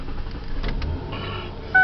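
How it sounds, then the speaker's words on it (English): Power windows on a 2004 Mercury Sable whir briefly inside the car, a short motor hum followed by a louder electric buzz near the end, close and with no talking. "Power windows, power door locks."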